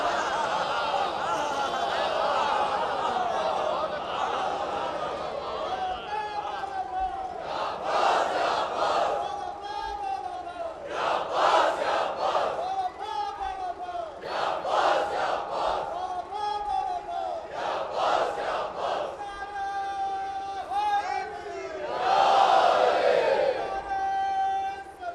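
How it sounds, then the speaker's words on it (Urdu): A crowd at a Shia religious gathering celebrating the birth of Abbas chants slogans in loud unison, with repeated rhythmic bursts of massed voices between stretches of someone speaking through a PA. "مسلسل آپ حضرات نعرے لگا رہے ہیں"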